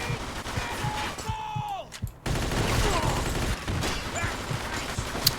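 Bursts of gunfire crackle in quick volleys amid Mafia 2 game sounds and effects, with a short muffled pause midway before the shooting resumes.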